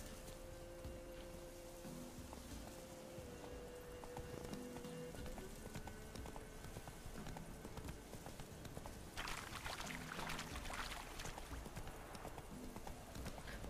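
Horse hooves clip-clopping steadily at a trot in The Witcher 3 video game, a close rhythmic clatter over soft ambient game sound, with rain-like hiss growing later.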